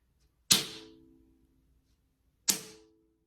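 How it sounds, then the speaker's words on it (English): A fly swatter whacks a hard surface twice, about two seconds apart, each a sharp close slap followed by a brief ringing vibration that fades. "fly swatter"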